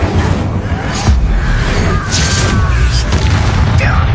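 The Incendio fire spell is cast in Hogwarts Legacy, a loud whooshing burst over dense, continuous battle noise with booms and crashes, and a voice shouting the spell.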